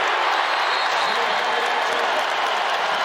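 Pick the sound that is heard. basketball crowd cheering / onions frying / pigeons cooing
basketball crowd cheering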